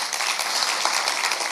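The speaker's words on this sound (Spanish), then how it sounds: "sí, puedes aplaudir por eso, claro que sí." A church congregation applauds during a Sunday morning service, with steady, dense clapping that holds at an even level for a brief moment.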